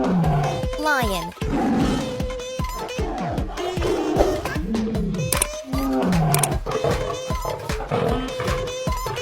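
A lion roars repeatedly in deep, rumbling, rising and falling calls, loud and close, with voices underneath.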